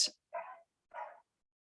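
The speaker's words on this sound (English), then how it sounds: "Can you hear that dog barking? Anyway, German Shepherd down the hallway." A German Shepherd barks down a hallway, two muffled mid-distance woofs spaced about half a second apart, following a brief sharp sound at the start, with no talking.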